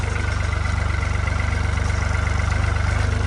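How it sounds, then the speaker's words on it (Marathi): A farm tractor's engine runs at a steady idle after being started, a close, loud low-pitched throb with an even rapid pulse and no talking over it. "त्याच्यामुळं आपण ट्रॅक्टर चालू करून निघलो"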